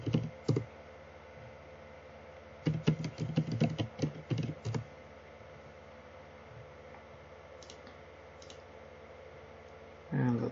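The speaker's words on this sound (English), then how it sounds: "I'm going to click on the Autodesk icon and sign in with my Autodesk details." Mouse clicks and keyboard typing during a sign-in on a computer, heard as a quick cluster of close taps with several pauses in between and a low steady hum underneath.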